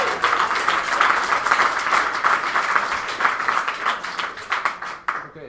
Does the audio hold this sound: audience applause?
yes